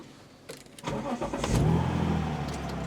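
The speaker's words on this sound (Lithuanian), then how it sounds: "Šaltas variklis." A cold car engine starts and runs, a rough mid-pitched rumble that swells after a few catches and settles into a steady, fairly loud running drone close by.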